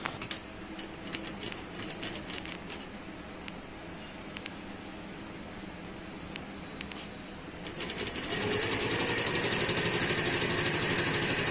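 A sewing machine stitching a folded sleeve hem on a suit: light scattered clicks and handling sounds at first, then a steady close motor hum with rapid needle chatter for the final few seconds.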